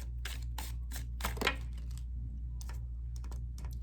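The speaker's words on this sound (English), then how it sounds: "This is a very large deck to shuffle" A very large deck of cards being shuffled by hand: repeated rapid riffling and flicking bursts in quick runs, fairly quiet over a steady low background hum, with no talking.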